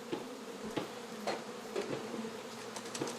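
Honey bees inside a shipping package give off a continuous buzzing hum, with soft taps and knocks scattered through it, heard close and fairly quiet with no talk.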